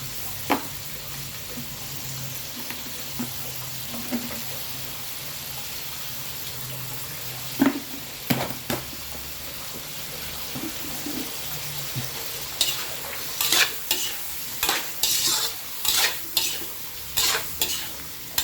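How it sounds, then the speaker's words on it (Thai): Mushrooms stir-fried in a pan with fish sauce: a continuous sizzle under repeated scraping and clacking of a utensil stirring, the strokes coming quicker and louder toward the end. "ต้องผัดเห็ดให้สุก"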